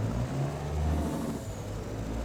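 A Volvo truck engine idles and rumbles low in Farming Simulator, a steady deep drone with slight throttle swells and no talking.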